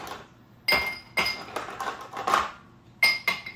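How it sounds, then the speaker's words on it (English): Ice cubes clink into a glass for a Bloody Mary, with several sharp, bright knocks close by, some in quick pairs, separated by short quiet gaps. "So get some ice cubes."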